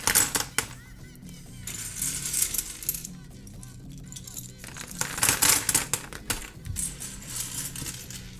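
Plastic keyboard keycaps clatter into a box in a long stream of small clicking, rattling impacts, coming in bursts and tailing off, close by with a faint voice in the background.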